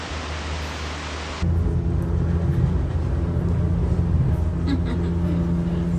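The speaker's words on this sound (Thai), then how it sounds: "น้ำตรงนั้นอ่ะจะออกมาจาก ข้างในอ่ะตลอดเวลานะที่จะมาเป็นน้ำตกแบบเนี้ย" Waterfall on the Barron River near Skyrail in Cairns, Australia, a steady broadband roar that fills the whole stretch and deepens into a heavier rumble after the first moment.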